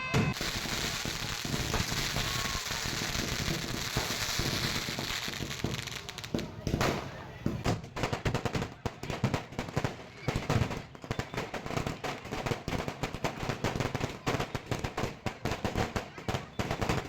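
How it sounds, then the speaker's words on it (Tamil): Fireworks at a Gengaiamman temple festival burst overhead, first in a dense continuous roar of crackling, then as rapid, uneven volleys of sharp bangs and pops, loud and sustained, with voices audible beneath. "அடுத்து என்ன, வான வேடிக்கை தான்"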